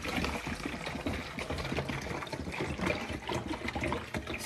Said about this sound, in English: Full in my water bottle for the day.